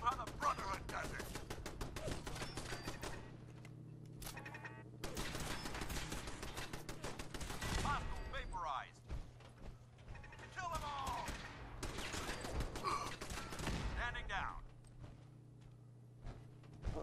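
Turret gunfire in Fallout 4 comes in repeated bursts of rapid automatic shots, loud and close, broken by short pauses across the fight, with voices talking over parts of it.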